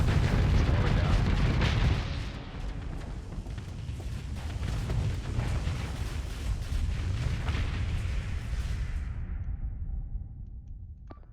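A video game battle with rapid weapons fire from an accelerated ammo feed: a dense, continuous stream of booming shots and blasts, loud at first, then steady under the mix before fading out.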